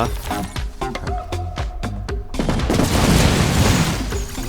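Rapid series of booming bomb blasts from the video game Bomb Bots Arena, one after another, ending in a longer rumbling burst of explosions.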